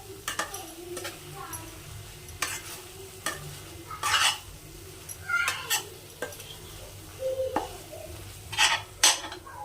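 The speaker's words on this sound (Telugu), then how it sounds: "ఇప్పుడు ఒక్కసారి కలిపేసుకుందాము కూర." A spoon scrapes and stirs a drumstick curry in a pan, giving repeated clinking strikes and soft scraping over a faint sizzle and low background hum.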